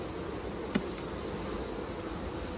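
Honey bees buzz steadily at an open hive during a varroa mite check, a continuous close insect drone with one brief sharp tick partway through and no talking.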